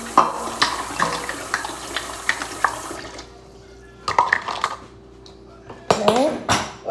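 A bowl is rinsed under a running kitchen tap during cake baking, with water splashing and clattering dish sounds in bursts, pausing between spells of washing; there is no talk.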